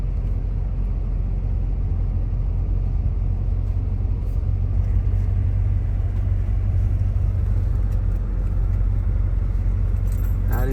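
A rebuilt Demon Chrysler car on the move, a steady loud low engine rumble and road drone from inside the cabin, with faint rattles and jingling throughout.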